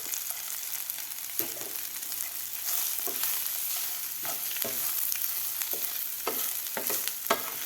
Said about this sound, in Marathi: शेंगदाण्यात कूट घातल्यानंतर सुद्धा आपल्याला हे व्यवस्थित हलवून घ्यायचं आहे